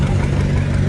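A John Deere 720 diesel tractor engine rumbles loudly and steadily at a tractor show, a brief, close, thick low drone with no pauses.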